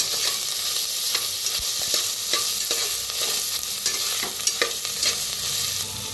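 Coconut, ginger, chillies and garlic roasting and being stirred in a pan, a steady close sizzle with repeated scraping strokes of a spatula throughout, no talking.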